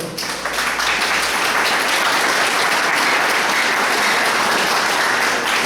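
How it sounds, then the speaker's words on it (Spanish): A church congregation at a Sunday midday service bursts into loud, sustained applause for the winner, with dense clapping that swells quickly and holds steady for several seconds without talk. "démosle un fuerte aplauso al vencedor"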